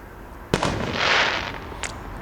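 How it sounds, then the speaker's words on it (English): Fireworks bursting outdoors, a sharp distant bang followed by a crackling hiss and a second fainter pop, fairly quiet overall. "More fireworks."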